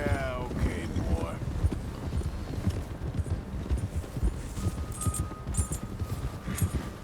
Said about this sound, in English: Just hitting G while I'm riding to pet my horse and increase the bonding level with it.